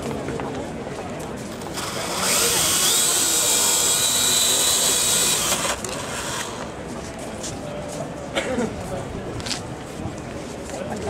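A Parrot remote-controlled helicopter drone lifts off in windy, crowded conditions at MWC 2010, giving a steady high whine that swells for several seconds and then falls away, with wind buffeting and people talking around it.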